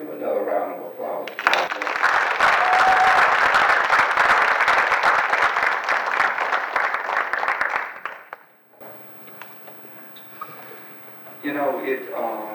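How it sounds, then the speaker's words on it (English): Audience applauds at a drug court graduation ceremony, a sustained burst of clapping from a crowd that swells, holds for several seconds, then fades as voices and room chatter return. "give another round of applause."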